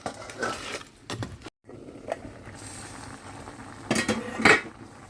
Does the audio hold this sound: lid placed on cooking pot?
yes